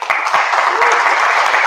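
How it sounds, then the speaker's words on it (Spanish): Audience at an Ubuntu exploit-development talk applauds a speaker before a break, a dense, steady burst of many hands clapping close by, with faint voices underneath. "Nada, un aplauso para Gabriel."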